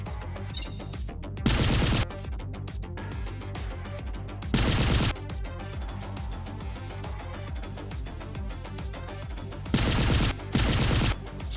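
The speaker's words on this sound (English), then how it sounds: "So that's our firing loop, and then we have the sound for the last bullet." Machine gun firing-loop effect for the video game Choke Point, heard as several separate bursts of rapid automatic fire, each about half a second long, standing out loud and sharp against a quieter backdrop of game sounds.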